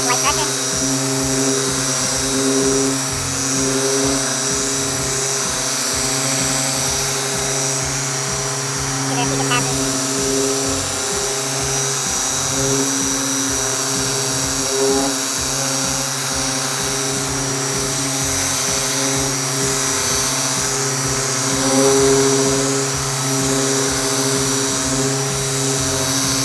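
Machine polisher buffing single-stage paint on a 1987 Buick Regal Turbo during a detail. It gives a steady, droning whine with a low motor hum, close and continuous, shifting slightly in pitch as pressure changes.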